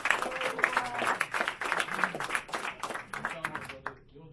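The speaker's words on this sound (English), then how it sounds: "Round of applause for Yvonne." Applause from a magic show audience as a volunteer is called to the stage, moderate claps rising and falling over four seconds and fading out at the end.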